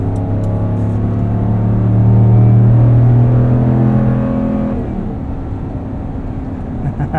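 A 2026 Ram 1500 pickup's 5.7L HEMI V8 revs up and accelerates while towing, rising to a deep rumbling peak before easing off, heard from inside the cabin with no talking.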